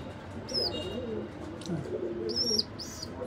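Pigeons coo softly near a nesting chick in a coop, low throaty calls repeating over steady background noise, with a few brief higher chirps.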